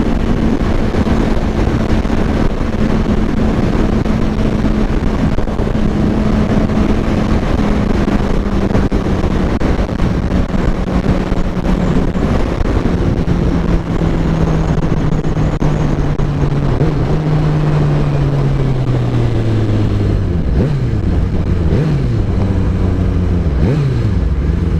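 Suzuki GSX-R 750 K7 motorcycle engine on a quick-shifter test ride, a continuous loud drone under heavy wind noise, its pitch falling steadily before a few quick drops near the end.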